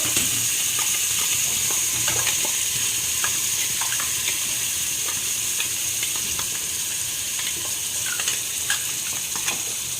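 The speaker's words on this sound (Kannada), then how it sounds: "ಒಗ್ಗರಣೆ ಹಾಕ್ತಿದ್ದಾರೆ" Oggarane tempering sizzling and crackling steadily in a hot pan, with scattered sharp pops and a continuous frying hiss, close and fairly loud with no talk.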